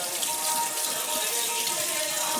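Rice rinsed under a steadily running tap, water splashing continuously at close range for the whole stretch with a bright, hissing wash of sound and no talking.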